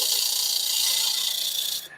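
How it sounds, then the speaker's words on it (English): A lathe tool scrapes a wooden top spinning at 1500 RPM, making a steady, close, loud hissing rasp. The sound holds even for nearly two seconds, then drops away abruptly. "I'm just going to scrape this down,"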